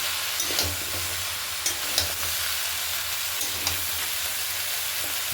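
Radish greens and cauliflower stirred into spice paste in a hot pan for a catla fish head chorchori, a steady close sizzle broken by a few light scraping strokes, no voices.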